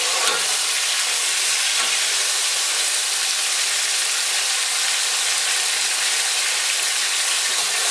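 Fish sizzles in a hot frying pan as it is turned, a steady loud crackling hiss running throughout with a brief clatter near the start and no talk.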